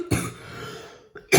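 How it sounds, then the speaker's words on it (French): A woman coughs twice, close and fairly loud, with a short hoarse burst at the start and another at the end, separated by a faint tail and near silence; she is ill with a cold. "désolée si je tousse"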